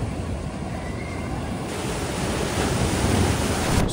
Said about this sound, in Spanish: Ya puede haber las olas que quieras afuera, que aquí, con este murito de roca,